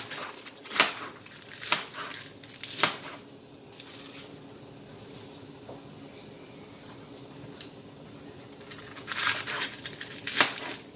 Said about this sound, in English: I'm going to show you how I cut my lettuce.